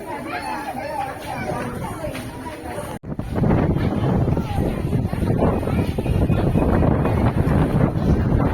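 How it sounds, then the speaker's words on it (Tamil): Strong gusting wind buffets the microphone outdoors at the MGR memorial in Tamil Nadu, a steady loud roar that jumps louder after a brief dropout at three seconds, with people chattering underneath. "அடிக்கிற காத்துல நிற்கவே முடியல மக்களே, அவ்வளோ காத்தடிக்குது."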